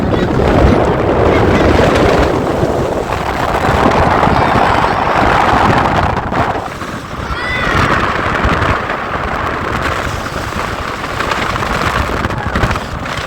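Strong wind buffets the microphone in a continuous loud roar during an open jeep ride toward Gir National Park in Gujarat, with the engine and road noise underneath and a brief dip partway through.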